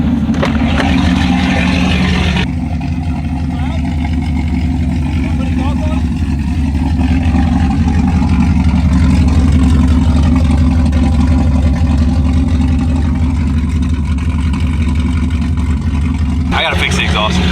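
A cammed car engine with a blown-then-rebuilt motor idles and runs with a loud, steady droning exhaust, a continuous low rumble filling the whole stretch with a brief pause near the start; someone talks over it.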